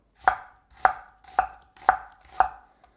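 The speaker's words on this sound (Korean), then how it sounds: "툭툭 떨어지는 재료 소리 이게 그냥 감성 그 자체예요" Five crisp knife chops land on an end-grain wooden cutting board at an even, unhurried pace, close and clear with no talking.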